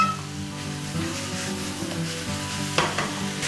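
Marinated pork for Korean stir-fried pork (jeyuk-bokkeum) sizzles steadily in a hot pan, a continuous close frying hiss with stirring scrapes and a sharper clatter near the end; no one speaks.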